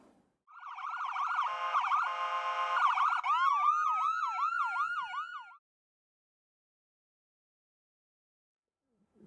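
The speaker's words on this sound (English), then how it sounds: "resounding our siren as we continue along to the emergency" A Calgary EMS ambulance siren sounds loudly while the ambulance works through heavy traffic on the way to an emergency, first a rapid warbling yelp and then a slower wailing sweep, before stopping abruptly and leaving near silence.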